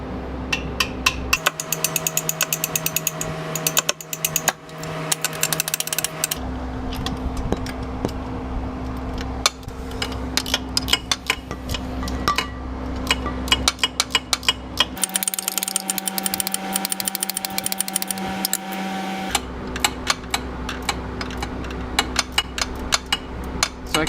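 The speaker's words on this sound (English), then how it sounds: "use the hammer, try and free it up." Rapid metallic hammer strikes ring out in dense bursts on a transmission bolt of a 2015 or later Subaru WRX, with a mechanical hum shifting underneath between sections.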